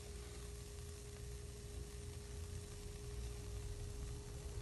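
Oat and zucchini pancake batter cooking in a nonstick pan, giving a steady, soft, close sizzle of frying that holds evenly throughout with no voices over it.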